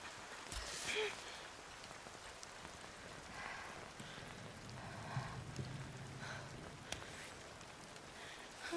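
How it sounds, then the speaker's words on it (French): Steady, soft patter of rain falling on a surface, a faint continuous hiss with occasional louder drops. "il commence à pleuvoir"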